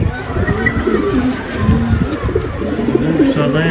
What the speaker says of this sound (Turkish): Kuşlar.